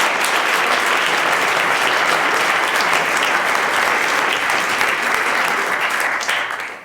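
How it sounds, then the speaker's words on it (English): Warm audience applause at a student oratory debate competition, a dense, steady roar of many hands clapping that holds loud for several seconds before tapering off at the end. "Je vous demande de l'applaudir chaleureusement."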